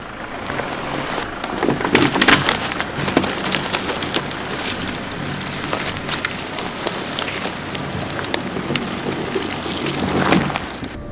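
A large fallen tree blocking a track splinters and crackles as a vehicle eases back in low reverse and drags it, irregular woody snaps and creaks over a rough continuous rumble.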